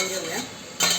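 Fried vegetables being mixed into a pot of oil for veg paneer biryani in a pressure cooker, with a spoon scraping and clinking against the metal in steady close strokes, growing louder and brighter in the last moment.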